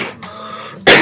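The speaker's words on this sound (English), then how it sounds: "Still got that cough." A single short cough, close and loud, cuts in abruptly near the end, with no talking.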